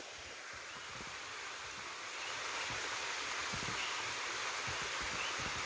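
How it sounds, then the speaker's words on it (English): A rainforest waterfall gives a steady, dense rush of falling water, close and unbroken, swelling slightly louder partway through and holding alone without voices. "this is my waterfall"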